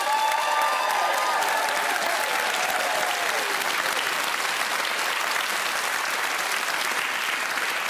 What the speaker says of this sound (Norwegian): Men bare få en applaus for de fantastiske gjestene våre.